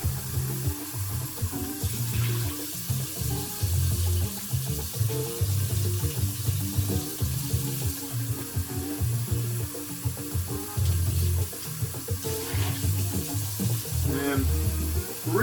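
Kitchen tap running water while a device is rinsed out, giving a steady rushing stream with uneven splashing and rubbing as the water hits the device, moderately loud and continuous with no speech.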